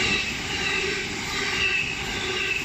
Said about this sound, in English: Oh yeah, I've got 2 trains coming, which is cool.